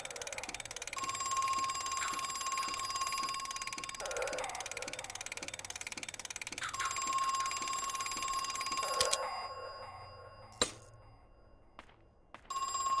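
A telephone rings repeatedly in the horror video game Crow Country, with steady bell-like trills separated by short pauses over faint background ambience, then the ringing stops with a couple of sharp clicks.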